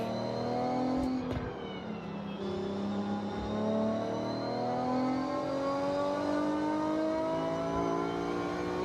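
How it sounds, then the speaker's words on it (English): A stock sports car engine in the video game Forza Horizon revs and holds a steady, rising drone with layered harmonics, loud and continuous throughout, with no voices. "I definitely need to put an exhaust on this car. Sounds nice. listen to it."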